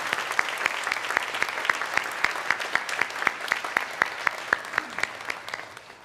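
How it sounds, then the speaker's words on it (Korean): A church congregation claps to welcome newcomers at a Sunday worship service, producing a steady run of sharp, evenly spaced claps at moderate volume that fades toward the end. "우리 박수로 환영하도록 하겠습니다."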